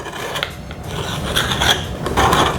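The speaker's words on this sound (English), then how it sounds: "Get your spatula and just scrape the sides." A spatula scrapes around the sides of cooled cake pans for a chocolate cake, giving a close, steady rasping rub that swells in several louder strokes with no talking.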